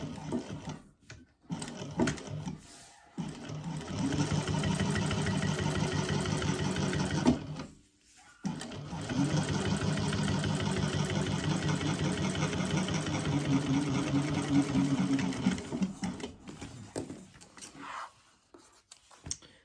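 A sewing machine runs steadily while stitching a piece of a crossbody bag, its fast mechanical whir going in two long bursts with a brief pause between them.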